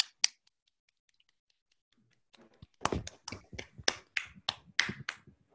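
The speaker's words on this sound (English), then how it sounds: "Let's give him a round of applause." Sparse applause for a speaker after a mathematics lecture: a single early clap, a quiet gap, then a short run of separate claps from a small audience, fairly near and unevenly spaced.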